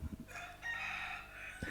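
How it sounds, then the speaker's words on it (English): A rooster crows near chickens behind a door, one long loud cock-a-doodle-doo heard clearly on its own, with a few brief clucks before it. "right behind the door behind me, there are chickens and there is a cockerel, and that's what that is"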